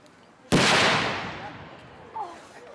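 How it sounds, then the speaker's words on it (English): A WWII stick grenade (masher) goes off in a single loud, sharp explosion that trails into a long rumbling decay, with faint voices afterward. "the masher"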